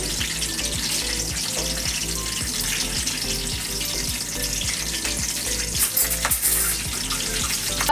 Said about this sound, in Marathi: जिरं टाकते कढीपत्ता हिंग टाकते